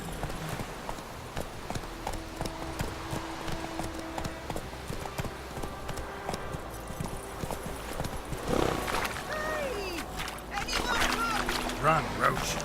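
Roach, Geralt's horse in The Witcher 3, gallops with steady, rhythmic hoofbeats close by, over a layered game soundscape with voices heard now and then.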